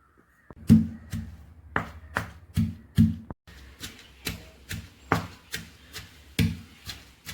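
Chilies and curry leaves being crushed by hand, a steady series of about a dozen dull, close pounding thuds at an even rhythm with short gaps between strikes.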